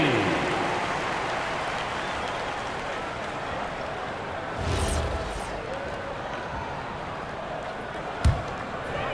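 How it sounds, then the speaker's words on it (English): A basketball arena crowd in a summer league game between the Suns and the 76ers sends up a broad, continuous roar of applause and cheering, with a sharp thud near the end. "A big round of applause for your Sixers, ENT."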